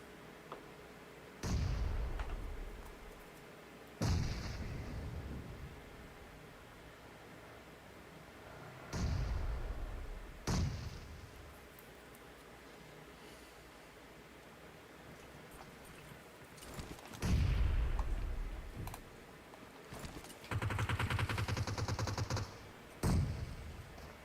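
A grenade explodes during a video game scrim match, one of several heavy blasts and bursts of gunfire that punch through at irregular intervals over quiet ambience, each fading with a low rumble.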